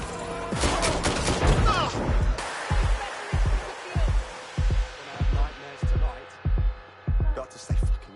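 Gunfire in the video game Watch Dogs Legion, played on hard difficulty with permadeath: a dense, loud opening burst of shots, then a steady series of separate single blasts at regular intervals.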